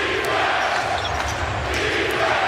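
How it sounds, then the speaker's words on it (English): Basketball arena crowd cheering during a Miami Heat home game against the New Orleans Pelicans, a loud, sustained roar of fans that holds steady throughout with faint sharper bursts on top. "Crowd that's really into it."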